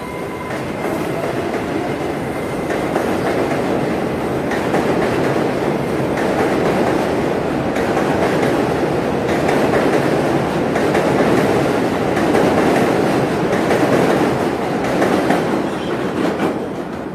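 A New York City subway R188 car with PWM 2-level IGBT propulsion rolls steadily along the track, a loud, continuous rumble with rail clatter throughout and a thin motor whine heard early on, with no voices.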